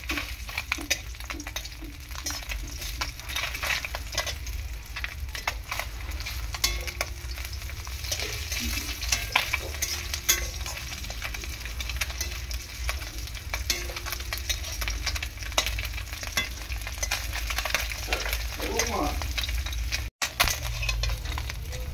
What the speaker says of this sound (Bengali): দেখো মাছগুলো আমি ভেজে নিয়েছি উল্টে পাল্টে ভালো করে।